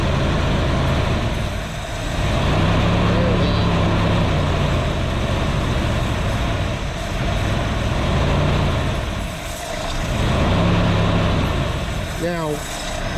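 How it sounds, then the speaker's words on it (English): Jeep Wrangler TJ engine held at raised RPM during a Seafoam intake treatment, a loud close drone that swells and eases in slow waves, with a brief voice near the end. "Guess I need a little more throttle this time. Yeah, raise the RPM."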